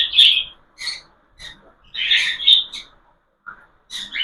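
A budgerigar that had recovered from a cold gives short, bright chirps and squawks in separate bursts, close and fairly loud, with brief silent gaps between calls.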